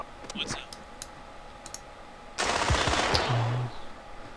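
Clicks and faint shots in the Incubation video game, then a dense, loud burst of automatic gunfire lasting about a second, followed by quieter ambient sound.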